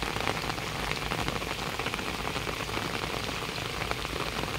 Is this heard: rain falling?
yes